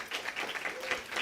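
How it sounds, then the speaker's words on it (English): Audience applause during a Sunday service, a brief, soft patter of scattered claps heard from a distance. "Let's give them a round of applause."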